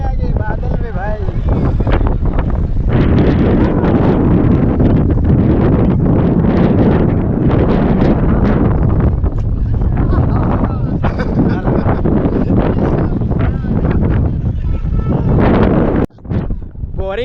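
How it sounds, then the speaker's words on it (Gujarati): Strong wind at Saputara hill station roars steadily and loudly into the microphone throughout, buffeting it with constant rumble and gusty rustle, with faint talking underneath. "આ જો કેટલા તેજ હવા ચાલતી છે."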